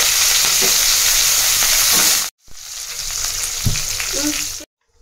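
Garlic and curry leaves sizzle hard in hot oil in a pan for jeera rice, a loud steady hissing fry broken by a brief stir pause, then crackling resumes before stopping.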